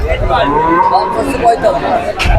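A dairy cow lows amid a busy outdoor crowd at a cattle market in Jhenaidah, Bangladesh, with people chattering and talking throughout.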